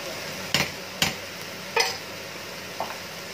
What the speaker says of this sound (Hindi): स्टफिंग का मसाला अच्छे से भुन रहा है